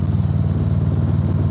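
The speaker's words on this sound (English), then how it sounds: "I'm on a 2018 Road Glide special." A 2018 Harley-Davidson Road Glide Special being ridden, its engine giving a loud, steady low rumble with an even throbbing pulse and road noise, close and continuous.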